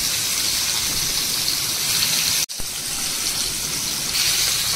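Water gushes steadily from a tap while Bombay duck fish are cleaned, a loud continuous rush that cuts out for a split second midway before carrying on.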